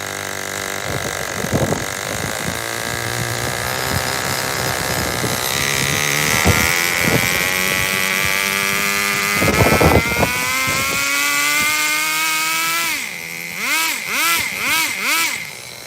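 A Novarossi nitro engine in a Serpent RC race car runs with its idle raised, a loud, close, buzzing high-pitched drone that holds steady and then rises and falls in short blips of throttle near the end.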